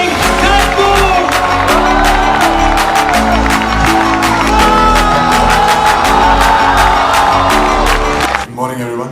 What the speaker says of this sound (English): I request you all to give a huge round of applause to welcome Sushant Singh Rajput.